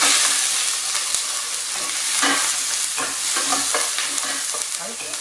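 Chicken wings and a garlic clove stir-fried in a pan, steady loud sizzling with scraping stirring strokes throughout, close and continuous.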